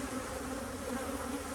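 Honey bees buzz densely around open hives in a continuous, close, steady drone with no voices.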